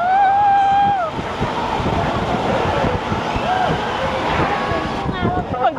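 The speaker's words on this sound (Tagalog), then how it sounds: "grabe yung hangin" Loud, constant wind buffets the microphone in a steady roar in Hong Kong, with a brief tonal whine at the start.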